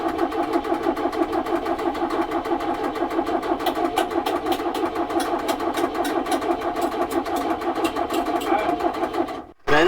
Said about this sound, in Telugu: కిక్కర్ కొట్టి సెల్ఫ్ కొట్టుకుంటే స్టార్ట్ చేసాం. ఇట్లా ఉంటుంది 1109 ఇంజను.